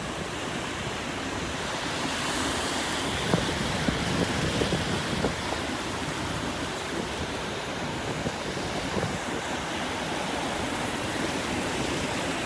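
Strong onshore wind and breaking surf on the beach at Pawleys Island roar steadily and loudly, with wind buffeting the microphone throughout and no voices.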